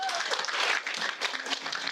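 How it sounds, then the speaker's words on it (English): Audience at an agricultural A&P show clapping and cheering in a quick, fairly distant burst of mixed hands, with crowd noise blended in. "A round of applause."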